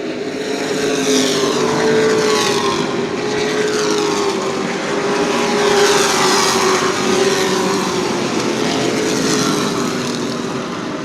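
Sportsman race cars roar around New Smyrna Speedway in a steady, loud engine drone with shifting pitch as the pack passes, and no voices over it.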